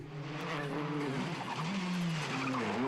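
A Hyundai i20 rally car launches into a stage at the Rallye de Wallonie, engine revving high and climbing through gears with tyre scrabble, loud and continuous, carrying a strong rising and falling whine.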